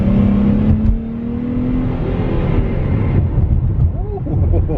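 A 2019 Dodge Challenger V6 accelerates hard, its engine note climbing steadily through a gear, heard from inside the car with someone talking over the drone.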